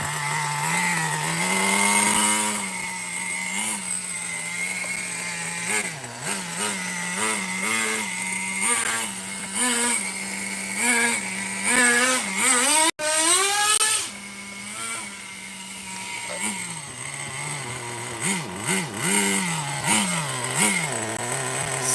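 Nitro engine of a Megatech Nitro Razor RC car runs loud and close, revving up and down with a buzzy, chainsaw-like whine and settling back toward idle between bursts.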